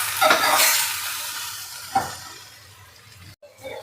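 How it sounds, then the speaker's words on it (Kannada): Okra (bhindi) frying in a pan for a butter masala gravy, with a loud close sizzle that fades gradually and a sharp scrape of stirring partway through, then a brief pause before the sizzle picks up again. "ಇಲ್ಲಿ ಬಂದು ನಮ್ಮ ಬೆಂಡೆಕಾಯಿ ಚೆನ್ನಾಗಿ ಫ್ರೈ ನೋಡಿ"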